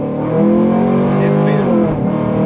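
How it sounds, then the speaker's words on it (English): A tuned street car accelerating hard in second gear toward a 2-3 shift, engine roaring loud and close with rising pitch under an interior ride-along perspective, with a voice speaking over it. "Second gear. Let her rip, see what this 2-3 shift looks like."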